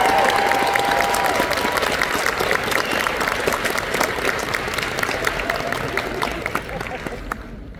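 Sustained audience applause, a dense wash of many hands clapping, fading slightly toward the end.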